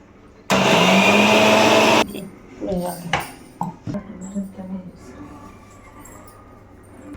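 A mixer grinder in a home kitchen bursts into a loud, steady whine for about one and a half seconds and stops abruptly, followed by clinks of dishes and utensils.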